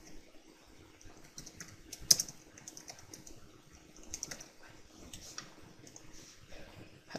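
Typing on a computer keyboard while a text layer is set up in Adobe After Effects CS5; fairly quiet, irregular clicking keystrokes run through the whole stretch, with one sharper louder click partway through.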